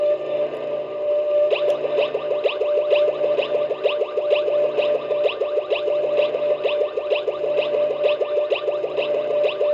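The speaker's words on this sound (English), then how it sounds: "the bell sound on this engine, to me, kind of sounds like an alien blaster" The electronic bell of a Lionel Pratt's Hollow Phantom model train rings in a fast repeating pulse with a warbly, echoing, sci-fi zap quality, loud and steady.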